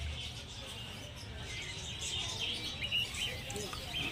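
Small exotic cage birds such as zebra finches at the Garia bird market give faint, scattered high chirps and tweets over a quiet, low background hum.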